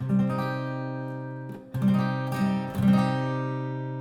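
A guitar A-form minor barre chord strummed and sustained, then restrummed twice more, ringing warmly with no talking.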